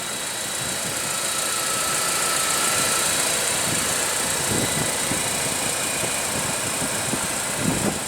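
A 2015 Mercedes-Benz SLK with a 1.8-liter turbo four-cylinder engine idling, a steady, even hum with a faint whine on top that holds throughout without revving.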